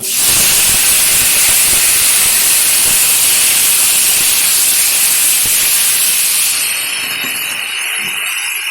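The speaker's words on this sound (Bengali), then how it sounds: "আগে থেকে কেটে রাখা কুমড়ো আলু ভালো করে দিয়ে পরিষ্কার করে নিয়েছি, ঢেলে দিচ্ছি।" Loud, hissing sizzle as cut pumpkin and potato hit hot oil, a dense roar that eases slightly toward the end.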